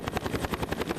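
A helicopter flies close by over the Faroe Islands, its rotor beating in a rapid, regular chop, loud and alone.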